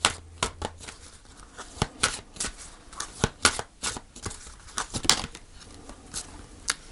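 Tarot cards being shuffled and drawn, a series of crisp, close riffling snaps and flicks in an uneven rhythm, with no talking.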